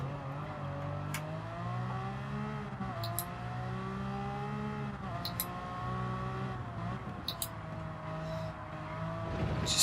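A Ferrari F50 in Gran Turismo slows at Monza under engine braking, with engine tones falling and rising in stepped bursts and occasional sharp clicks, a steady close engine with no talk.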